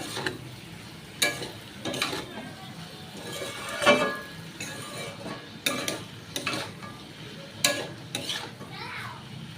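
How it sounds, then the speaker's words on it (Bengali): Potatoes frying in a pan with salt and turmeric, a soft sizzle running under repeated scraping and stirring strokes from a spatula, with clinks of utensil against pan at intervals. "লবণ হলুদ দিয়ে এবার আলুটাকে ভালো করে ভাজা ভাজা করে নেব"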